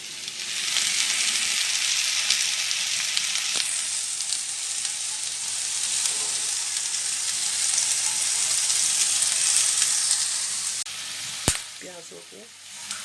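Onions sizzle steadily in hot oil for parwal sabzi, a dense, even frying hiss held close and loud throughout, with a sharp tap near the end as the sizzle eases.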